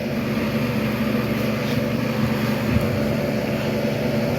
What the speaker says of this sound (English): Compressor is running.